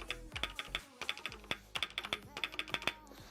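Fast, close typing on a Glorious GMMK 2 mechanical keyboard with lubricated stabilizers, a quick run of deep, thocky keystrokes with a faint metallic ting, quiet and with no talking.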